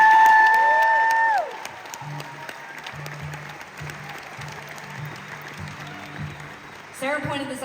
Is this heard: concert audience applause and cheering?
yes